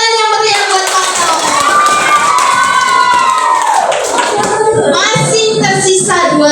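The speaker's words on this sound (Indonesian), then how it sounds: "kita kasih tepuk tangan yang meriah buat Pano." Children at a Ramadan pesantren gathering clapping and cheering loudly, excited high voices shouting over the applause as the noise swells and stays busy to the end.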